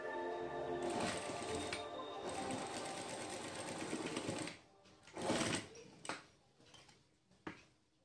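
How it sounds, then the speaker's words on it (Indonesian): A sewing machine stitches the hem of a 120x200x20 cm bed sheet, running steadily and close for about four seconds before stopping, followed by a few soft handling clicks and knocks. "lalu lipat ke dalam dan jahit"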